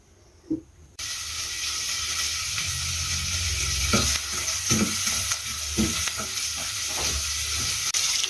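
Onions dropped into melted butter in a pan for cutlets: after a brief quiet moment, a sudden loud sizzle starts and holds steady and close, broken by occasional stirring knocks, with no talking.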